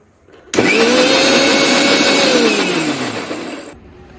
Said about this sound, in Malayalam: അപ്പോൾ നമുക്കിതെല്ലാം ഒന്ന് ക്ലീനാക്കി നന്നായിട്ടൊന്ന് അരച്ചെടുക്കാം